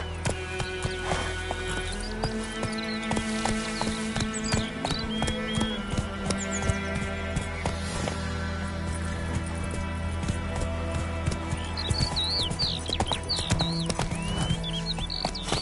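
Roach, a horse in The Witcher 3 video game, gallops with steady clip-clop hoofbeats under a dense bed of game music and ambience, with occasional faint voice.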